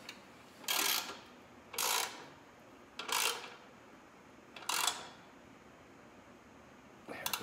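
Easy Brackets hardware on a Harley Low Rider is tightened with a ratchet, giving four short clicking bursts, evenly spaced and close by, with a fifth starting at the end.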